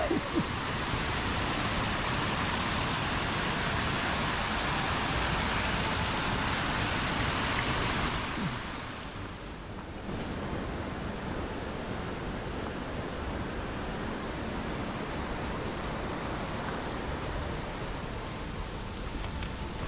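Loud, steady rushing of the Pedras river in Galicia, a continuous broadband roar of fast water that drops slightly in intensity midway and then carries on unbroken to the end, with no talk over it.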